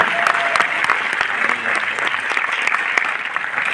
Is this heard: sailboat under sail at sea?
no